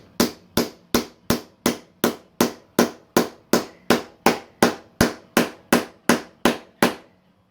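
About twenty sharp metallic strikes of a big hammer driving a socket to press in a transmission carrier bearing land in a steady, even rhythm, each ringing briefly, close by with no talking.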